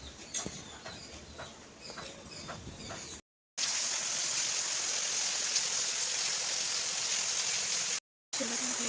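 Water is poured over a Shiva idol during a home puja, a steady splashing hiss that follows a few quieter clinks and breaks off briefly twice.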